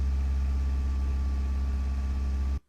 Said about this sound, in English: Just a nice car engine sound.